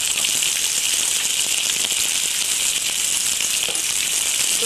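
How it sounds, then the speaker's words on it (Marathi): Sliced onion sizzles steadily in hot oil for mutton vada, a dense, even frying hiss with faint crackles and light rattles throughout. "तो आपल्याला व्यवस्थित ह्या तेलावर परतून घ्यायचा"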